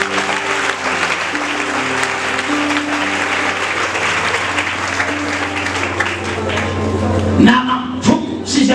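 Sustained applause from a church congregation, loud and dense throughout, with music tones underneath and a few sharper claps and shouts near the end.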